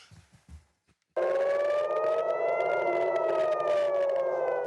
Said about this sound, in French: Les sirènes retentissent.